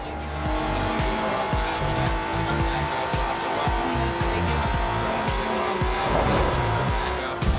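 Car in Forza Horizon 4 with a 3.6-litre twin Garrett T25 turbocharged engine and widened tyres, its engine roaring loudly and continuously with tyre squeal and skidding throughout.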